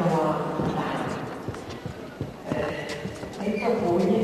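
A horse moves around the show ring at a horse show in Troja, its hooves clip-clopping irregularly on the ground. A commentator talks over the steady background of the arena.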